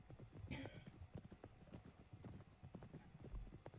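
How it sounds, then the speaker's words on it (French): A horse trots during a beginner riding lesson on an arena track, a steady, quick clip-clop of hooves heard close and fairly faint, with a brief snort or whinny and some quiet talk. "vous allez pouvoir vous mettre tranquillement au trot sur la piste, et puis au galop quand vous êtes prête"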